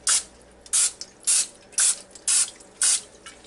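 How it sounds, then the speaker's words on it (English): Six short hissing sprays of cooking spray onto chicken legs in an even rhythm, each about a quarter second, close and crisp against a quiet background. "we'll hit them a little bit with this cooking spray here"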